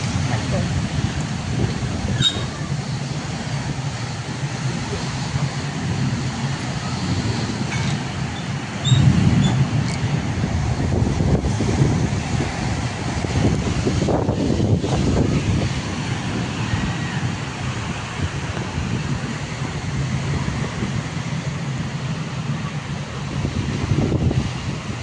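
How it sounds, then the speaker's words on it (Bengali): Strong gusty wind roars steadily during heavy rain, a broad rushing wash with swells of louder gusts around the middle and near the end, loud and close to the microphone. "এমন বাতাস করতেছে মনে হয় কি জানি পড়তেছে।"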